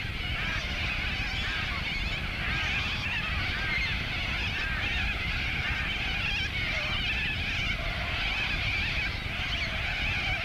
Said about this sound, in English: Clouds of corellas roost in the gums on their travels around the interior